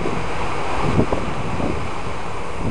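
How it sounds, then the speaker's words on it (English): Heavy rain pours down with strong wind during a storm along a city riverwalk, a steady dense roar of rain and gusty wind buffeting close to the microphone, with no talk. "Okay, now we got really strong rain coming down now."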